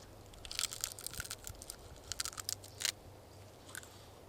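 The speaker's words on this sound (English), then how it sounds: "And you just chew them up." Close crunching and crackling of a pine cone being chewed outdoors, bursts of brittle bites in irregular clusters, fairly quiet over a soft background hum, with no talking.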